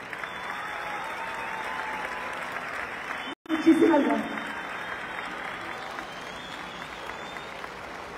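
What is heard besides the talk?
stadium crowd applause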